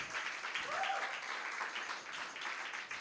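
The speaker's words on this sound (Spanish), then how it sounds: "Aplauso a Cristo, aleluya." Faint, sustained applause from a church congregation during a Sunday worship service, an even, distant patter of clapping with no clear voices.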